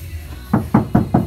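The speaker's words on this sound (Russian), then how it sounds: "слушайте, как звенит голый металл." Four quick knocks on the bare, untreated metal of a Nissan X-Trail door, evenly spaced and ringing slightly, heard up close with no talking.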